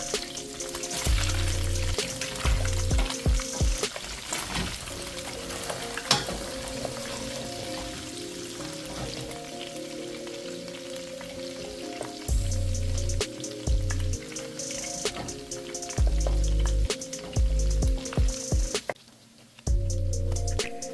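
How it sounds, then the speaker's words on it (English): Four tablespoons of butter melting in a pan with a steady, dense sizzle and crackle throughout, close and fairly loud, briefly dropping near the end. "Add 4 tablespoons of butter to the pan."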